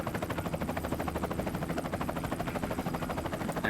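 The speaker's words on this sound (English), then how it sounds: "because there's a helicopter making tons and tons of noise" Helicopter in the stealth game Splinter Cell Chaos Theory, its rotor throbbing in a fast, steady chop that stays loud and even throughout, with no talking.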